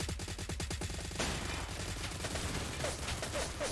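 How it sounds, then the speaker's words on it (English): RPD machine gun, fitted with a Hystrix, firing in a video game, rapid sustained bursts of gunfire up close, with a brief pause and further shots scattered through. "He came around the corner with a Hystrix's RPD, just letting that shit rip."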